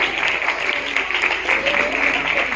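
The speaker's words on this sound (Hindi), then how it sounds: "आपकी भरपूर तालियों में" An audience at a shelter organisation's cake-cutting ceremony claps in a sustained round of applause, loud and dense, with voices mixed in.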